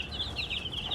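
Young chickens clucking and peeping, raised indoors before moving outside, heard as a steady run of high, chirpy calls at close range over a low background hum, with no talk.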